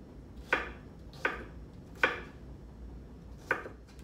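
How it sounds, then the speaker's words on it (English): A knife dices cucumber on a cutting board while tabouli salad is prepared in a teaching kitchen: four sharp, close chops at uneven intervals with quiet pauses between, no talking. "just turn it the opposite direction and cut straight down for diced pieces of the cucumber"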